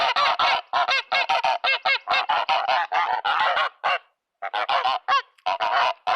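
A flock of farmyard geese honks loudly and close, harsh overlapping calls in rapid bursts with a brief pause near the end, expecting bread on a homestead.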